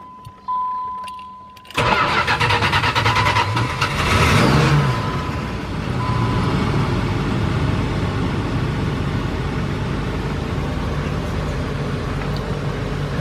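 A 1987 Chrysler Fifth Avenue cranks briefly and catches, then settles into a steady, loud idle close by, running continuously with no talk over it.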